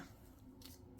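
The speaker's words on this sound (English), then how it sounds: "let's just go ahead and cut it" Scissors cut paper for a handmade pocket traveler's notebook; after a quiet rustle, a single crisp snip lands sharply at the end, close and alone.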